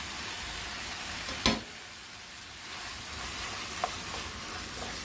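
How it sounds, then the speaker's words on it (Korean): Webfoot octopus stir-frying in a hot pan with chili, a soft steady sizzle with one sharp clatter early on and a fainter knock later, no talking. "쭈꾸미는 넣어서 그냥 살짝 볶아내는 정도지 많이 볶을 필요는 없어요"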